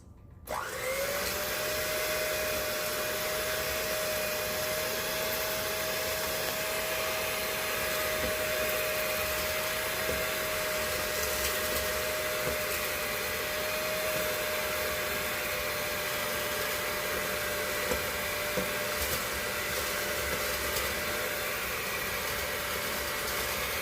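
Eggs and sugar whipped together in a mixing bowl with an electric mixer, a steady loud whirring motor drone that starts abruptly and runs evenly throughout, with no voices over it.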